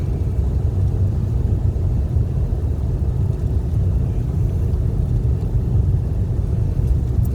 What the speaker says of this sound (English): We're driving to Wapato from Yakima.